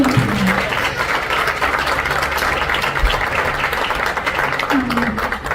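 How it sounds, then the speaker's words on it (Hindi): A congregation applauds during a Friday church service, giving a steady, continuous roar of clapping that stays even throughout, with faint voices mixed underneath. "हम खुश हैं तो जोरदार तालियां खुदावंद को दिलाएं"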